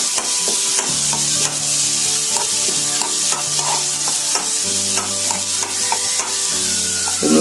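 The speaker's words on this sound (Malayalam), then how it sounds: "പച്ചമുളക് കൂടി ചേർത്ത് വഴറ്റിയെടുക്കാം." Green chilies sauté in a pan with a constant sizzle, cut by repeated scraping strokes of a spoon stirring them, while soft background music plays underneath.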